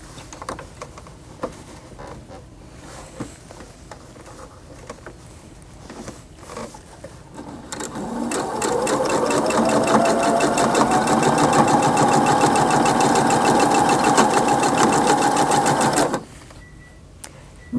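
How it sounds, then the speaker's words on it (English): Sewing machine resewing a quilt seam, starting after some quiet handling noises and running fast and steady for about eight seconds close by, then stopping abruptly. "I'm going to resew this seam actually."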